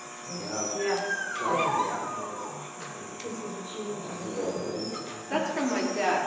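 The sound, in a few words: recording of dog whimpering in pain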